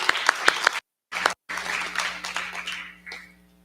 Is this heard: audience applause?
yes